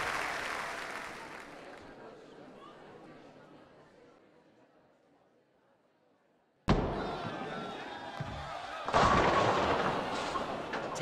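Bowling ball crashing into pins in the PBA Pro Bowling video game, a sudden loud impact followed by a second burst of clattering pins, with crowd-like noise fading beforehand.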